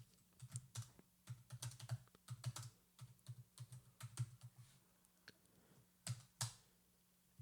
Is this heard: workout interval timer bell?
no